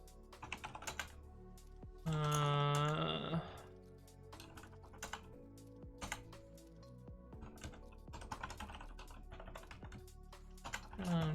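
Fingers type on a computer keyboard in a quiet room, producing quick, irregular bursts of soft clicks and taps. A brief voice cuts in partway through.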